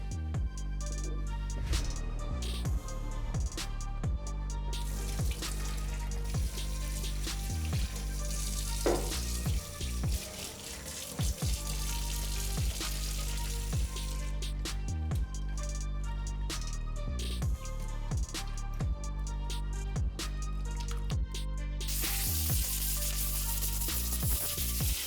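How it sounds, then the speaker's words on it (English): Tap water runs steadily into a sink while shoelaces from a 1985 Air Jordan 1 are scrubbed and rinsed, a continuous close hiss of flowing water under background music, with no talk. "I'm gonna go to the sink one more time, give them a good scrub and rinse until the water comes out clear."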